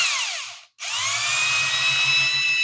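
A power drill fitted with a 3M abrasive wheel, removing trim adhesive, whines loudly up close, stops briefly, then spins back up into a steady high-pitched grinding whir.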